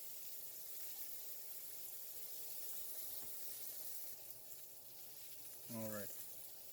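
A ribeye steak sears in a hot pan with a steady, broadband sizzle that runs the whole time at close range, with a short voiced sound breaking in near the end.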